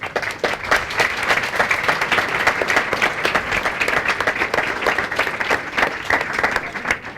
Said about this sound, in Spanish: Les propongo despedir a los panelistas para que vengan los de la segunda mesa con un aplauso.